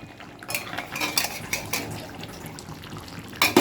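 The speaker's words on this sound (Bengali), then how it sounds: "এবার ঢাকনিটা খুলবো।" A metal lid lifted off a cooking pot of boiled crab and potatoes, with clinking, scraping metallic knocks scattered through the clip and a louder clatter at the end.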